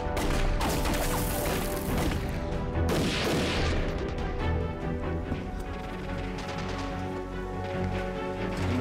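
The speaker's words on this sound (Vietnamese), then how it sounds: "Nghe tiếng súng này thì có vẻ bên chàng Sơn Hổ chẳng còn được mấy người." Gunfire rattles through a war film battle set in the anti-Japanese resistance, with dense bursts and sharp crashes clustered near the start and around the three-second mark. Softer mechanical clatter continues afterward.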